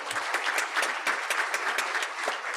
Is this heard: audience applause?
yes